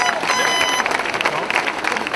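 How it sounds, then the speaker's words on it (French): Crowd applause at a Relay for Life fundraising event for the major sponsors, a dense wash of clapping and cheering from a large gathering, with voices mixed in underneath. "Une bonne main d'applaudissements pour tous nos commanditaires majeurs."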